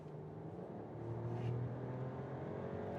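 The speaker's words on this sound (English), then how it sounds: "we can accelerate out one more time. Let's see, from the 6-cylinder," A Mercedes E450 six-cylinder engine accelerates hard, a steady, swelling drone heard from inside the car with no talk.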